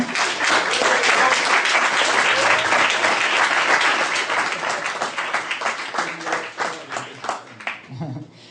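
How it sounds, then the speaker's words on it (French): An audience at a TV series convention applauds a guest, a full, steady burst of clapping that holds strong for several seconds, then breaks into individual claps and fades out. "qu'on peut applaudir bien fort"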